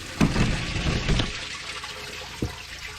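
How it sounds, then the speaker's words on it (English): Water gushes out of a split-rim truck tire on a 1962 Peterbilt 351, a close splashing rush with a few sharper spurts, fading to a softer flow, no talk. "the water's gushing out of it"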